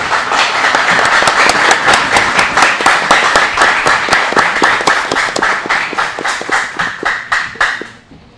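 An audience at a school match between two lycées applauds loudly, sustained rhythmic clapping that grows more synchronized and evenly spaced toward the end before stopping abruptly.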